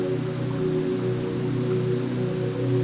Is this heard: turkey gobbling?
no